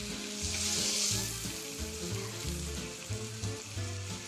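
Chipotle lime steak sizzles and crackles steadily on a hot grill, a loud, continuous frying hiss with no voices over it.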